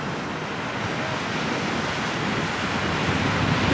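Waves wash onto a windy main beach in a continuous broadband rush of surf mixed with gusting wind noise, steady and fairly close, with no voices.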